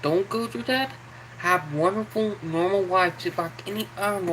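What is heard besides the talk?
None of the usual background noises is heard.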